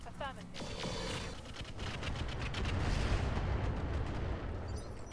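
Heavy weapon fire from battling mechs in the RogueTech BattleTech game, set among trees: a sustained, loud rumbling barrage of shots and blasts with rapid crackling at the start, swelling and holding steady to the end.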